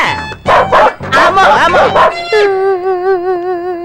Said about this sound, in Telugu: కుక్కలు అసలే ఇది చిత్తకార్తి